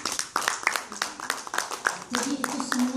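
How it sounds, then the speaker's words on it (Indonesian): A church congregation claps for God, the sharp claps uneven at first and then settling into a rhythmic beat, with voices speaking and singing over the clapping. "Mari kita tepuk tangan untuk Tuhan."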